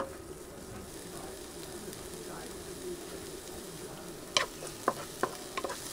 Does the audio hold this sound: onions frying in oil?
yes